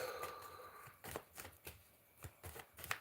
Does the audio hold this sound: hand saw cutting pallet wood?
no